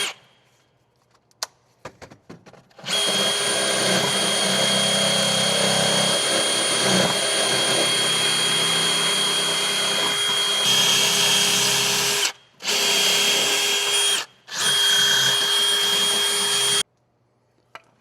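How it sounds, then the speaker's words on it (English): A power drill fitted with a wire wheel scrubs rusty studs on a 2007-2016 Honda CR-V's rear sway bar link, a loud sustained whine and grind with brief stops and restarts, and no voices. "I'm going to get a drill with a wire wheel on there, and we're going to just try to clean these up"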